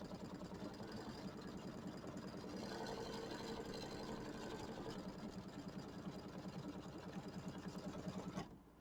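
A sewing machine stitches down appliqué on a mini quilt, running in a fast, steady mechanical rattle close by for several seconds before stopping abruptly near the end, with no talking.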